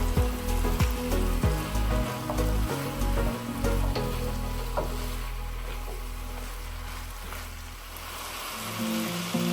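Squash pieces go into a hot pan of pinakbet, a Filipino vegetable dish, raising a steady close sizzle with a few clattering knocks at first, then a continuous frying hiss.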